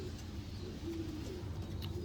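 Racing pigeons bred for 2021 cooing softly in a loft, low throaty coos faintly heard over a steady background hum, no talk.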